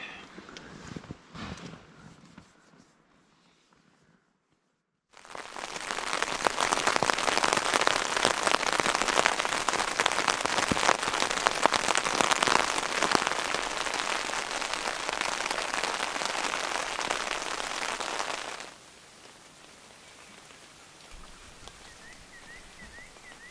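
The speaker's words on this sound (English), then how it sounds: "today it looks like it's gonna rain all day" A steady, dense patter of rain drums loudly on a tarp for several seconds, then drops away to a quieter background hiss.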